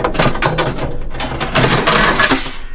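Metal screen with quarter-inch holes dropping into a grain mill for making pig feed, giving a run of close, loud metallic clanks and rattles with no voices.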